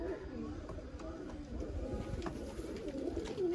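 A breeder pair of pigeons coo in a close, continuous, throaty murmur of soft repeated calls, with faint background noise.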